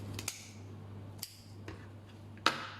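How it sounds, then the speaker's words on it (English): Kitchen scissors snip through raw fish in a few sharp, separate cuts about a second apart, quiet and close with a low steady hum underneath. "If you're not confident with knife, so you can use kitchen scissor"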